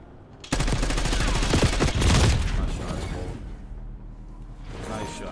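Rapid automatic gunfire from the shooter Black Ops 6 in a 1v1 Search and Destroy match, a dense, loud burst of shots running for a few seconds with a voice speaking over part of it.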